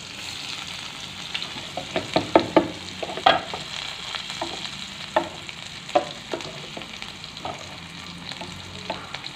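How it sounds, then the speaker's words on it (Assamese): Onions sizzle steadily in hot oil in a wok while a utensil stirs and scrapes in irregular taps, close and clear, with no talking. "কেৰাহীত তেল পকিলে এতিয়া পিঁয়াজ দি দিছোঁ"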